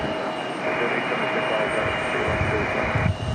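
An airliner in Carmen the Black Bear livery landing in windy conditions at Raleigh-Durham International, heard as a loud steady engine roar with a whining tone, wind noise underneath, and a rumbling touch near the end.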